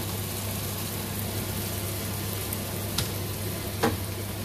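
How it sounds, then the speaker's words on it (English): Chopped tomatoes go into a pan of frying garlic and ginger for a prawn curry, giving a steady moderate sizzle with a couple of brief clatters from the pan and utensil near the end. "I have chopped the two tomatoes that I had and now I'm going to add those into them"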